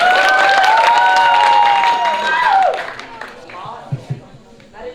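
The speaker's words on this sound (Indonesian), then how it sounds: "Beri tepuk tangan yang meriah." An audience claps during a Language Month finalist competition, the applause running under a loud amplified voice and music before fading to a few scattered sounds.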